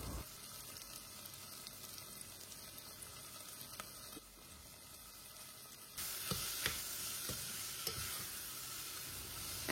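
Tomato sautéing with ginger garlic paste in a pan, a steady close sizzle and crackle with a few stirring scrapes and clacks, growing louder partway through.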